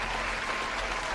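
Applause sound effect on a podcast: a dense, steady burst of clapping from a crowd, loud and continuous for the whole moment with no talk over it.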